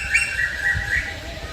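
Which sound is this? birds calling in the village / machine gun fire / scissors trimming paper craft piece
birds calling in the village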